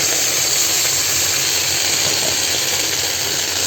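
Water poured onto fried semolina in a pan while making semolina halwa, giving a steady, loud broadband hiss and sputter of steam that holds evenly for several seconds with no talk.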